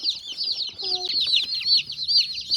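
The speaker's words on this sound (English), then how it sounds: "There's 15 Cornish cross, or I ordered 15 Cornish cross, and I got a free chick here." A brooder of Cornish cross broiler chicks keeps up a constant, loud, overlapping chorus of high cheeping, close by, with a brief lower sound partway through and no talk.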